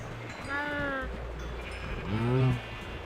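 Minecraft cows being fed in a video game, giving two short drawn-out moos with harmonic tones, one early and one later, over a steady low background hum.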